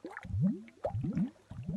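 Underwater-style bubbling in three bursts of gurgling, squishy liquid blips, close and moderately loud, with no voices, set within a children's story told in Catalan.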